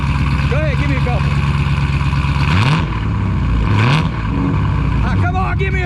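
A Dodge Scat Pack 392 Hemi V8 rumbles loud and close, deep and throaty, rising in two quick revs before settling back, with people talking over the engine.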